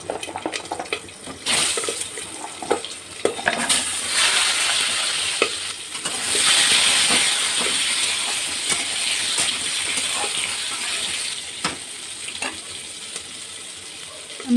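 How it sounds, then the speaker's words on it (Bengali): Potatoes and jackfruit seeds fry in hot oil, giving a steady sizzle that swells in the middle and carries on with occasional stirring scrapes, near and moderately loud, no voices. "আমি এখন ওই তেলের মধ্যেই আমি এই আলু আর কাঁঠালের আঁটিগুলো ভেজে নেব।"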